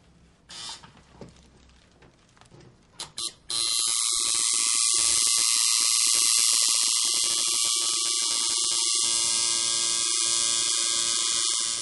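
A tattoo machine lines a design with a continuous, close, high electric buzz. Scattered clicks and handling come first, then the buzz runs steadily to the end without talk.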